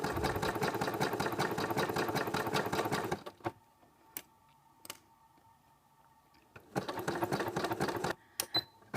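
A sewing machine stitches lining fabric along a seam allowance in a steady fast mechanical run for about three seconds. It pauses with a few faint clicks, then starts stitching again near the end.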